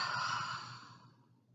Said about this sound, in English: And then exhale, maybe out of your mouth.